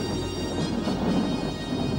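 Cartoon thunder summoned by a magic spell rolls in a loud, sustained rumble with a bright crackling edge, heard alone without speech.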